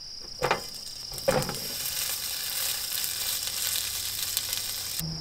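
Veggie burgers of sweet potato, zucchini and corn frying in a pan, a steady close sizzle with a couple of brief clicks early on.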